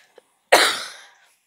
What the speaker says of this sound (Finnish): Sori kun yskin.